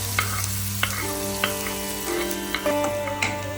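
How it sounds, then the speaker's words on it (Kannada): Chopped onions fry in a pan over cumin seeds for a prawn dish, a close, steady sizzle with a few sharp stirring scrapes and a faint tonal hum beneath. "ಇವಾಗ ಈರುಳ್ಳಿನ ಗೋಲ್ಡನ್ ಕಲರ್ ಬರೋ ತನಕ ಚೆನ್ನಾಗಿ ಫ್ರೈ ಮಾಡ್ಕೊಳ್ಳಿ"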